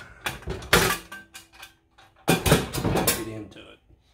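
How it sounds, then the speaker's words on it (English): The lid of a 50 cal ammo can stove is worked loose and pulled off, a series of metallic clanks, scrapes and rattles in bursts, close up, with someone speaking briefly. "Let's get the lid off of this."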